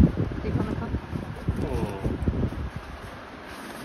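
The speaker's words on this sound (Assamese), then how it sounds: "বতাহ ইমান দি থাকে" Wind blows steadily across an outdoor microphone, a broad rushing noise with gusty swells that sits close and moderately loud, with faint indistinct voices underneath.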